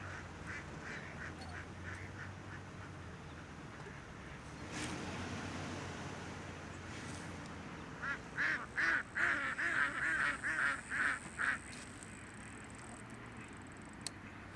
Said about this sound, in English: Got a lot of ducks in the way.